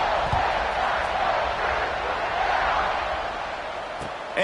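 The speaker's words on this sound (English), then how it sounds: "this crowd is buzzing after that last score" A stadium crowd at an American football game buzzes steadily after a score, a dense, loud wash of many voices holding level throughout with no single voice standing out.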